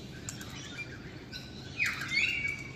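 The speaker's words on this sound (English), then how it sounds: "Pretty birds." Backyard birds feeding on seed, with a few light chirps and one clearer rising tweet near the end over a soft outdoor background hum, fairly close and with no talking.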